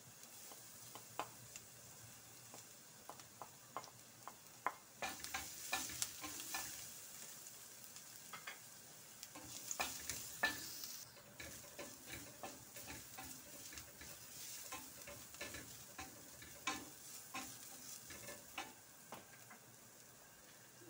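Ginger and garlic sauté in a pan for ginataang kalabasa, a soft steady sizzle broken by frequent light scraping and clicking of a utensil stirring, quiet and close.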